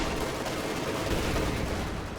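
Sustained suppression gunfire from a war video game, a dense unbroken roar of overlapping shots at steady level with no clear individual reports.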